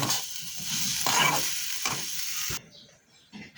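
Red amaranth greens frying in oil in a pan as they are stirred: scraping stirring strokes over a steady sizzle that cuts off abruptly near the end, leaving brief quieter clatter.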